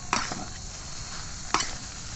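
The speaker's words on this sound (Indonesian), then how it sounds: "kita lagi masak nasi goreng" Nasi goreng fried rice cooks in a pan at a camping site, sizzling steadily with two sharp scraping stirs of a utensil against the pan, close and alone without talk.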